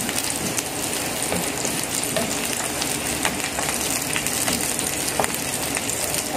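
Onions frying in a pan as the base for a chicken curry with coconut milk, giving a steady, dense sizzle with scattered crackles and pops throughout, fairly close and continuous with no talking.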